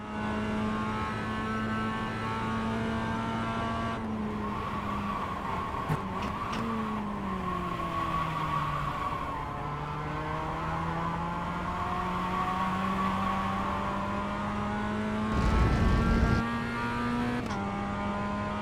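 A race car engine in a driving video game laps a track with a steady, buzzing whine that rises and falls through gear shifts and cornering, with a short burst of tire skid near the end and no talking.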